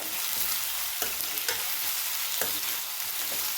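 Tomatoes fry in a pan for aloo curry, making a close, steady sizzle broken by a few soft clinks and scrapes of stirring, with no talking.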